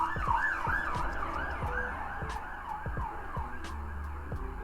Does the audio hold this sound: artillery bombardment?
no